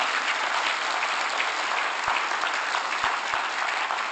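An audience at a special lecture at a civil servant training institute claps in dense, steady applause that keeps going at an even level the whole time, with no voices over it.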